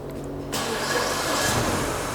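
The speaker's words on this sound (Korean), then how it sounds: "시동 한번 걸어봐." A used car with about 150,000 km and a misfire in cylinder three cranks and catches after a brief quiet moment, then settles into a steady, slightly uneven idle close by.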